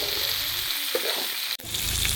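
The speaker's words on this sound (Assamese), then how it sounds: "মাংসখিনি অলপ সময় ভাজিলোঁ আৰু ভজাৰ পাছত ধুনীয়াকৈ মাংসৰ পৰা তেল ওলালে" Pork meat frying in oil in a pan, a loud close sizzle that briefly dips and cuts out before surging back even stronger.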